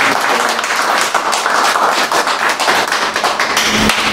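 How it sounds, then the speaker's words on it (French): A close, loud burst of audience clapping at a francophone community gathering on children's schooling, many hands beating together without pause for a few seconds. "on peut applaudir"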